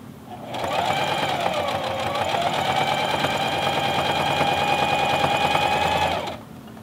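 A sewing machine fitted with a size 11 needle runs through fleece in one steady, even whir lasting about six seconds, fairly quiet and close, then stops.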